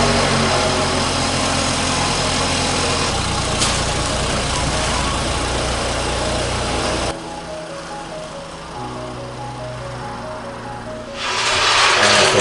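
A Camaro owner's mom's car engine runs steadily in a home garage, a continuous mid-pitched hum and drone that drops in level partway through, then swells louder near the end, with no talk over it.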